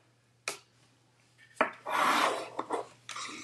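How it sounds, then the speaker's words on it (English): Burnishing tool rubbed over a paper craft piece in short, close scraping strokes separated by pauses, a few quick swipes followed by a longer rub, no talk. "I am done with the burnishing"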